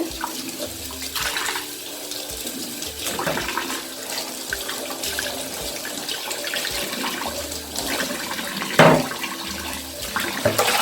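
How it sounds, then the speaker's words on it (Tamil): Water runs and splashes while a new stone grinder (attukal/ammikal) is washed and turned, a continuous gushing flow with brief louder splashes near the end and no talk. "இந்த கல்லை வந்து திருப்பி திருப்பி திருப்பி அதாவது இந்த தண்ணி வந்து எடுக்கும் போது க்ளீனாக இருக்கணும்"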